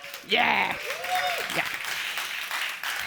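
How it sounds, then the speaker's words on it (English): A debate audience at the World Economic Forum in Davos claps and cheers, steady dense applause filling the room while a voice speaks over it near the start. "I need you to be even noisier. Applause and cheering are actively encouraged."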